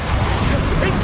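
Bombarda blasting spell going off in Hogwarts Legacy, a single loud, dense rumbling burst of explosive noise that fills the whole brief moment.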